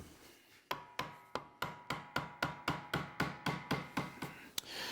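A drive shaft being tapped into a plywood belt sander assembly, heard as about fourteen sharp, evenly spaced hammer taps in quick steady rhythm, close and solid.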